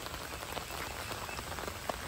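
Heavy rain pours steadily onto a pond, a dense, even hiss of drops with scattered sharper patters and faint croak-like sounds mixed in.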